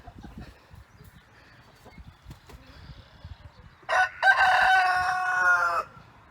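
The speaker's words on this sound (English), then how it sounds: "let's see if we can catch him crowing for you all" A rooster gives one loud, clear crow lasting about two seconds near the end, after a stretch of faint rustling and quiet background, with no one talking.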